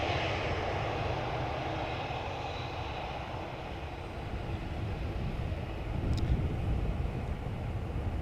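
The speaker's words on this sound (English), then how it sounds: "it is a 737-800" A Boeing 737-800 airliner rumbles at Amsterdam Schiphol Airport, a broad steady engine roar heard from a distance that swells slightly near the end, with no voices.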